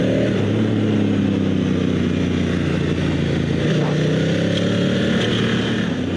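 An adventure motorcycle on Continental TKC70 tires cornering on a road, its engine droning steadily and loud under heavy wind rush, the engine pitch shifting slightly as it holds speed through the bends.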